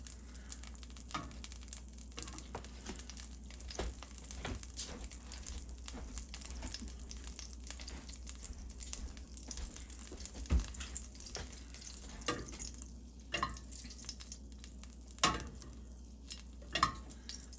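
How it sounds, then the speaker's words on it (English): Butter melting in a pan, with a soft, steady sizzle under faint stirring and a few sharper clinks of utensils against the pan, close by and fairly quiet throughout. "the butter is almost melting, and you can tell the difference in the sizzle now"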